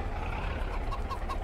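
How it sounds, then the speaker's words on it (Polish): Chickens clucking near a garden greenhouse with lettuce beds, a few soft clucks over a steady low outdoor rumble. "Kurczaki skaczą po sałacie prosto do szklarni."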